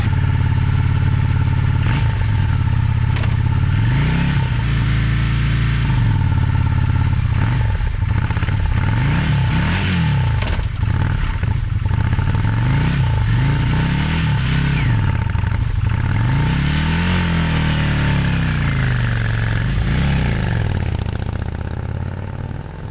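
Sawmill engine running steadily up close, a loud mid-pitched drone with repeated rising and falling rev swings and some clatter, no voices over it.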